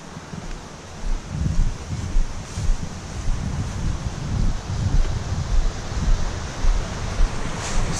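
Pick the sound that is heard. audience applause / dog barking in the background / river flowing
river flowing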